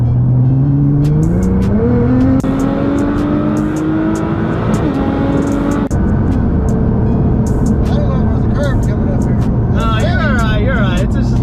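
A Nissan GTR with a six-speed gearbox accelerating on a Texas road, engine note rising steadily through the revs with a gear change midway, loud and close from inside the car over constant road noise.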